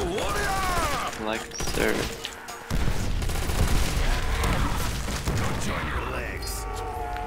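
Rapid video-game gunfire from a powerful weapon in a Minecraft Custom Zombies match, dense bursts of shots and booms running nearly continuously under several players talking.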